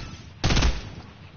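Gunfire in a shooter video game: one short, loud burst of rapid shots cuts in sharply over a quiet background and fades within a fraction of a second.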